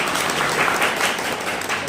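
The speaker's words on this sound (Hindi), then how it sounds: "एक बार तालियां हो जाए जोरदार" Audience applause fills a room at a Republic Day seminar of revolutionary songs and ideas held at the Aajeevika Bureau institute, a loud, steady clapping of many hands that lasts about two seconds without a break.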